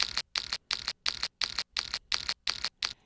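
A hi-hat built from layered samples of packing tape and moving boxes repeats as a steady run of about nine short, crisp, shaker-like hits at an even tempo, close and dry with no voices.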